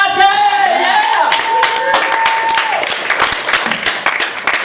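An open mic crowd at the Lexington Theatre claps and cheers as a comedian is called up, dense applause throughout with a voice calling out over it near the start.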